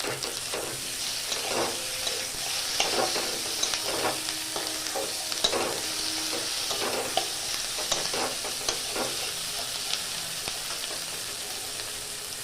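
Chopped green chillies dropped into potatoes frying in a pan, giving a steady bright sizzle with repeated scraping stirs and clinks, close and continuous, with no one talking.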